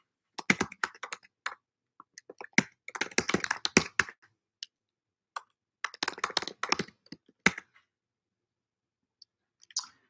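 Bursts of rapid typing on a computer keyboard in a quiet room, close and crisp, coming in irregular flurries separated by pauses, with a few isolated keystrokes near the end.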